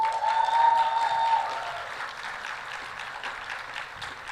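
Applause from a summit audience for a bank named award winner fills the room, dense and loud at first, then thinning gradually toward scattered claps.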